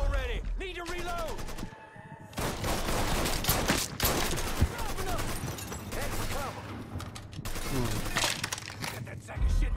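Rapid gunfire bursts from the Mafia 3 video game, a dense fusillade of loud overlapping shots with a brief lull, mixed with game effects and a player's voice talking over the firing.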